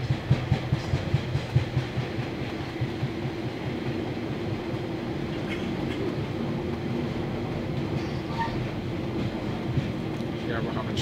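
Northern Class 142 diesel railbus running between Newcastle and Sunderland, heard onboard as a steady rumbling drone with rhythmic clicks of wheels over rail joints early on, continuous and moderately loud.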